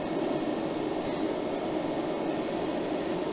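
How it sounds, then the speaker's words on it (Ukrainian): Cooling fans of a PowMR 6.2 kW hybrid inverter running at maximum speed during battery charging give a steady, loud, broadband whooshing roar with no breaks, close by. "на цих максимальних обертах шум такий вже досить суттєвий від вентиляторів."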